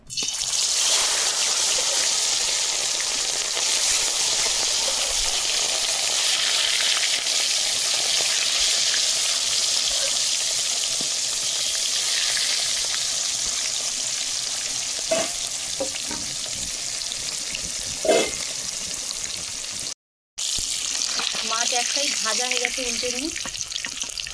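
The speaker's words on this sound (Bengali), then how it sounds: "তেল গরম হয়ে গেছে মাছ দিয়ে দেবো" Pieces of rohu fish fry in hot mustard oil, a steady bright crackling sizzle that holds for the whole stretch, with a few light clinks and stirring sounds near the end.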